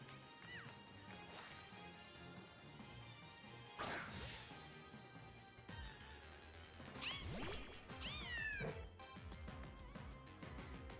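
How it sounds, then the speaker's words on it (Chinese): A small cat Pokémon gives chirpy, rising and falling synthesized cries in a Pokémon video game, faint and brief amid soft game sounds and occasional crashes. "哇，那只猫好小只哦，这只好小哦"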